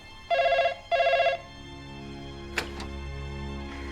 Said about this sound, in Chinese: 杨处，华主任电话。